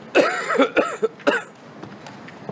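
A person coughs several times in a close, dry series of sharp bursts, then a couple of quieter throat sounds follow in a still room.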